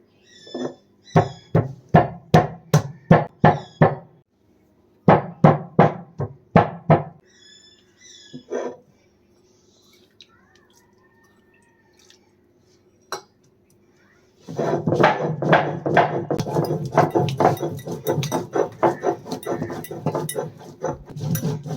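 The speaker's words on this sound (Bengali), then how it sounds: "এরপরে ওই একই শিলে আমি হলদিগুলো পিষে নেবো" Turmeric is ground on a traditional shil grinding stone in a village kitchen: rhythmic rubbing strokes come in quick batches, fall quiet for a few seconds, then return as a faster, continuous run of close grinding strokes.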